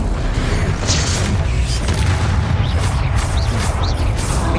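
Incendio fire spell cast in Hogwarts Legacy combat, a dense rumbling whoosh with repeated crackling bursts and booms, loud and continuous amid other battle effects.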